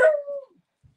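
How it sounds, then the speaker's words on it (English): A dog gives a single short, close whine or howl that tails off quickly, followed by near silence. "Wasn't expecting a dog."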